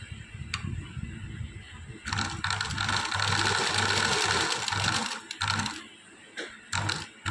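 A sewing machine stitching beside hand piping on fabric, starting with faint mechanical clicks, then running in a loud steady whirring burst for about three seconds, followed by a few shorter runs and clicks.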